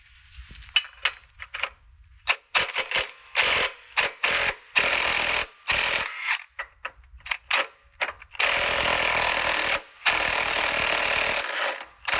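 A hand ratchet loosens shock absorber bolts on a RAM Power Wagon during a Rancho RS9000XL shock install, giving close, loud bursts of rapid clicking that start and stop repeatedly, with longer continuous runs near the end.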